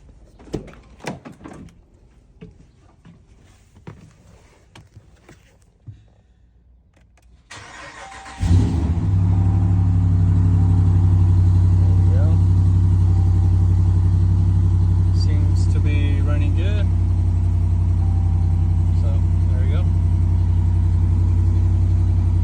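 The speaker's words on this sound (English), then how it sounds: "Now to turn on the truck." A 2019 Ram Rebel 1500 pickup with a 5.7L V8 cranks and starts after some quiet clicks and knocks, then settles into a loud, steady low idle rumble that holds nearby and alone.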